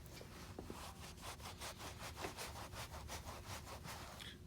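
A microfiber cloth wipes fingerprints off the finish of a Jackson RR1T Rhoads V electric guitar, heard as quiet, close, rhythmic back-and-forth rubbing strokes, about a dozen in quick succession.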